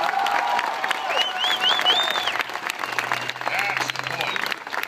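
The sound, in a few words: audience applauding at a rally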